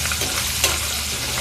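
Onion frying in a pan until brown, a dense continuous sizzle close up with one brief scrape of a spatula.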